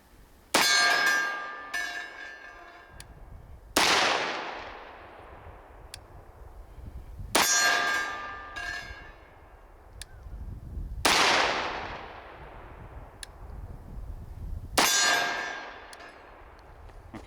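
Five loud shots from a SIG Sauer P220 Legion 10mm pistol at steel targets 15.5 yards away, spaced a few seconds apart. Each sharp crack has a bright metallic clang and ring from the struck steel, with no talk.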